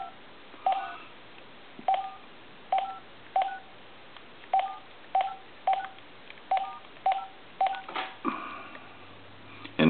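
Keypad tones from an AT&T SL82418 cordless telephone under repair ring out as a series of about eleven short, evenly spaced beeps. Each is clear and close, and a louder click and rustle of handling follows near the end.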